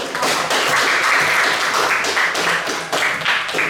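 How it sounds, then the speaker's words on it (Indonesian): A classroom of students applauds steadily, dense clapping sustained for a few seconds, fairly close and fading slightly at the end. "Silakan kasih tepuk tangan."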